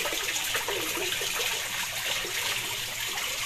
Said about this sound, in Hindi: देखो पहाड़ में से अंदर से पानी आ रहा है